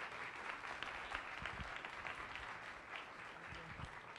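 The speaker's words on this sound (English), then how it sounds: "Please give her a warm round of applause." Audience at an evening science cafe event in a museum applauds to welcome a speaker to the stage, a steady, even wash of clapping heard faintly from across the room with no talking.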